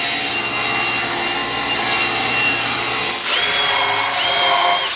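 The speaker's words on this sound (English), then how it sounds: "I gotta rip some 1x2." A power saw rips a 1x2 wood board in a woodworking shop, a steady loud whine running the whole time with a short dip near the middle as the cut continues.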